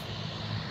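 An airplane engine at the Eldoret City airstrip gives a brief, faint, steady drone as the plane begins to move off along the strip. It is heard alone, with no talking.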